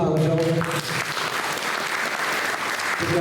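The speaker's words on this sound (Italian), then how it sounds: "Anche dare un applauso." An audience applauds at a Sardinian poetry and song commemoration, a dense steady wash of clapping that runs throughout, with a voice briefly audible at the start and again near the end.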